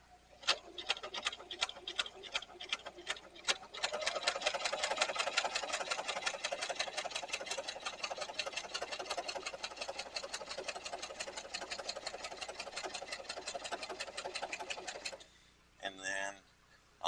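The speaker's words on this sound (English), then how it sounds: "I'll back stitch it." Sewing machine back stitching a leather tote bag, a run of rapid mechanical stitching ticks that starts in short bursts, then runs steadily for about eleven seconds before stopping with a few brief closing sounds.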